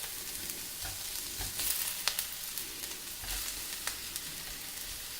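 Potatoes frying in a pan with crushed roasted cumin and coriander, a steady close sizzle and crackle with occasional stirring scrapes and brief louder spatters throughout.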